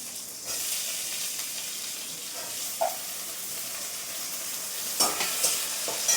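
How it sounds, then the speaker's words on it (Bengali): Onions fry with whole spices in a pan, producing a steady, hissing sizzle up close with a few sharp stirring clinks near the end. "পেঁয়াজটা ভাজা হলে আসছি তোমাদের কাছে"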